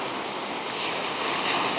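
Ocean surf rolls steadily onto the beach at Biarritz on a calm September day with small waves, a continuous close wash of breaking water mixed with some wind noise and no voices.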